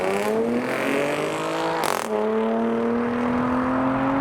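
A supercharged Ariel Atom sports car engine roars and revs hard, climbing through gears with a short shift break, loud and close as it accelerates away.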